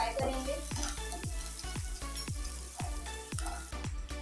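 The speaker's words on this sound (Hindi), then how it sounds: "अब इसमें अदरक लहसुन डालेंगे और इसको हल्का सा फ्राई करेंगे।" Ginger and garlic fry in about two tablespoons of cooking oil in a pan, a steady close sizzle broken by repeated rhythmic scraping of a spoon stirring against the metal.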